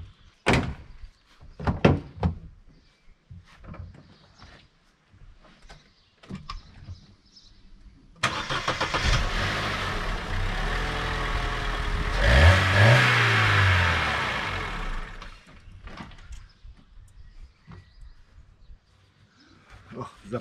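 Car engine that had been lying on its roof, with oil in its cylinders, catching after a few faint clicks and knocks, then roaring loudly close by and revving up sharply before settling back down.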